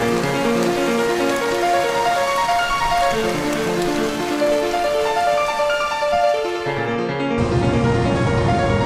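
A rain sound effect from an audio story, steady and loud throughout, washes over sustained musical tones and ends in a denser hiss.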